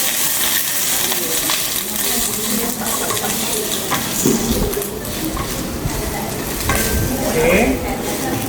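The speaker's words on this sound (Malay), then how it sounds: "So kita masukkan bawang kita." Onions frying and being stirred in a pan while cooking Arabic mandi rice, with a steady sizzle running throughout and scraping stir strokes rising over it at close range.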